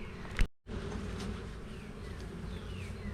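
Honey bees buzz inside a hive box in a continuous faint drone, briefly cut off by a short gap near the start before the steady hum resumes.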